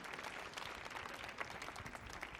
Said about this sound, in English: Let's give them also a big, big warm round of applause.